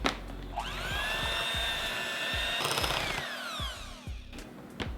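An electric mixer whirs as it beats pumpkin churro cheesecake filling with vanilla and eggs, a close, steady high-pitched motor whine with a slight pitch rise at start-up and rhythmic knocks against the bowl.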